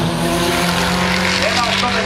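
A VW Golf mk2 Synchro VR6 Turbo and a Toyota RAV4 Turbo roar side by side at a drag racing day in Thiva, a loud, sustained engine howl with tire noise and a commentator talking over it.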